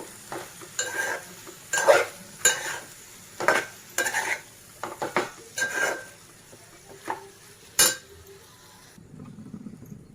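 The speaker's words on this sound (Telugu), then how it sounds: "ఇందులోనే బంగాళదుంపలు కూడా వేసుకుంటున్నాను" Boiled, cut potato pieces go into a simmering meal maker curry in a pan, with repeated spoon scrapes and clinks against the metal over a faint sizzle.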